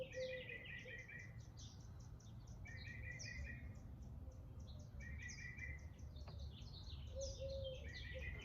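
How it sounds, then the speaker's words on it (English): Bird song rings out in quiet, faint outdoor surroundings, with repeated bright chirping phrases in bursts every second or two and a faint insect hum underneath. "This bird sounds so beautiful."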